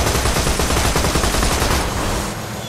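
Rapid, dense video-game gunfire from Borderlands 2, a loud continuous barrage of shots and bursts lasting about two seconds before tapering slightly.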